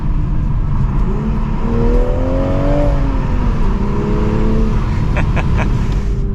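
A Toyota GR Supra 3.0 with a manual gearbox revs up and accelerates, its turbocharged engine's pitch climbing steadily over a loud, continuous roar of road and engine noise.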